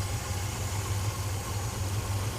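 A 426 Hemi engine in a 1955 Chevy idles down, a steady, low rhythmic rumble with an even pulsing beat that stays close and fairly quiet, alone without talk.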